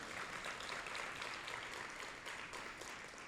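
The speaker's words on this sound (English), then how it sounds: "Can we give them another round of applause?" An audience at a school district State of the Schools event gives a round of applause, steady and fairly soft, evenly sustained clapping with no talking.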